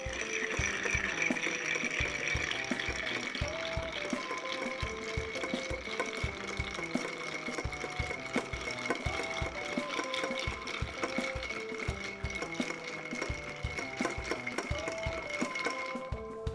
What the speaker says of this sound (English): Grab our bar spoon, stirring for 20 seconds as always.